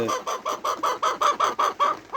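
Chickens cluck in a rapid, even series of about a dozen close, throaty calls, with no speech, as birds squabble after being moved.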